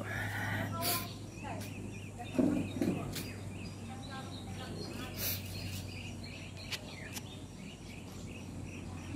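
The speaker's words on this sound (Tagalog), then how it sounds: "Mga huni-huni ng ibon, maririnig mo." Birds chirp outdoors in Batangas, with short, scattered high calls over a steady insect drone and a low hum, moderately faint and spread across the scene.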